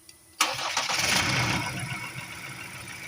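Ford Raptor engine cranking and catching, a sharp start followed by a rising rev that settles into a steady idle, close and fairly loud in a repair setting.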